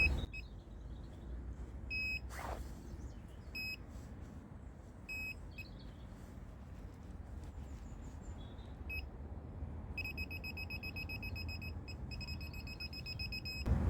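A handheld metal detector out bottle hunting gives repeated short high beeps in clusters, clearest near the end, over a steady low outdoor rumble with no talk.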